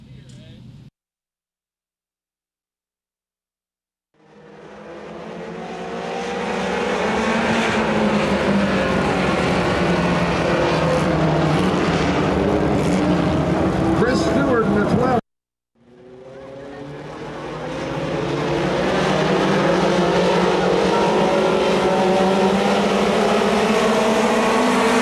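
Mini stock dirt race cars racing at North Georgia Speedway during a Tennessee Thunder Dirt Car Series event, a loud sustained roar of many engines that swells in, cuts out briefly, then builds again.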